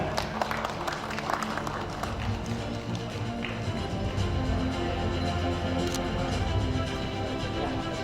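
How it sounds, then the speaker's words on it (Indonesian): Audience applause at a KADIN Riau provincial chamber of commerce congress in Dumai, a steady, dense clatter of many hands that carries on evenly throughout without a break. "Bapak Masuri SH, kita berikan tepuk tangan yang meriah hadirin sekalian."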